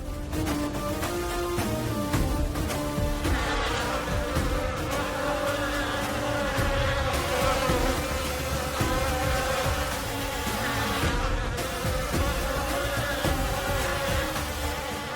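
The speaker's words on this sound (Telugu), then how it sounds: "పూజ గదిలోకి తేనెటీగలు వచ్చాయి." Loud, dense buzzing of a swarm of bees, continuous and steady for the whole stretch with no pauses.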